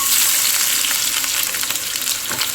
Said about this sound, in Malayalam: ചൂടായ എണ്ണയിലേക്ക് കടുക് ചേർത്ത് കൊടുക്കാം